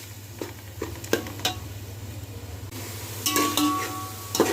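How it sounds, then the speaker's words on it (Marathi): Onion, coconut, ginger and garlic paste sautéing in a pan for misal, a low steady sizzle with occasional stirring clinks and scrapes of a spoon against the pan, fairly close and without talk. "तीन कांदे खोबरं आलं लसूण हे सगळं मिक्स करून घेतलेलं आहे चांगलं परतून घ्यायचं आहे"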